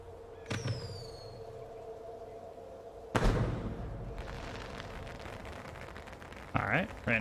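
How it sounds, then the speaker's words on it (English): Fireworks in the video game Hitman 2: a whistling rocket climbs early, then a sharp burst and crackling scatter follow, with another pop near the end, fairly distant under ambient game sound. "Alright, random fireworks."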